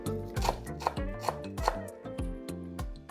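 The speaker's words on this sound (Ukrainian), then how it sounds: "І міленько шинкуємо петрушку" A knife chopping parsley finely on a board, with sharp, steady cuts in an even rhythm, close and clear with no talking.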